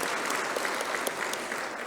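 Crowd at the opening ceremony of an Africa civil society AML/CFT conference claps for a sponsor, a brief, fairly quiet burst of even, overlapping applause lasting under two seconds.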